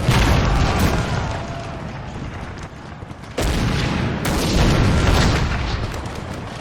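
Booming artillery and cannon fire from a large Napoleonic-era land battle in Napoleon Total War, a dense, continuous roar of heavy blasts and volleys with sharp new bursts cutting in partway through, loud and close.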